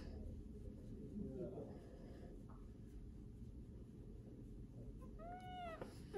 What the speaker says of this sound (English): Oh, here's the kitty.